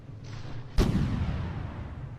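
A single heavy artillery shell blast from the naval combat game From The Depths hits with a sudden loud boom, then a long rumbling decay over steady background noise.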